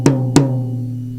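Two strikes on a 10-inch tom drum, each a sharp attack followed by a ringing, sustained pitched tone that decays slowly, heard close and clear with no talking.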